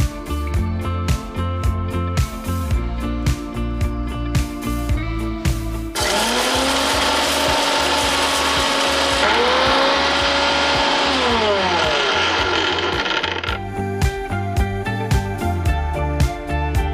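Mixer grinder jar pulverizing roasted foxtail millet with a little salt into powder, a loud steady whirring roar running for several seconds between quieter kitchen sounds.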